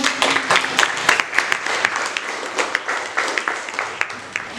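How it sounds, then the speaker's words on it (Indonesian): Classroom applause for a student group rises as a scattered, lively patter of many hands clapping, moderately loud and continuous for several seconds, with faint voices mixed underneath. "Beri tepuk tangan."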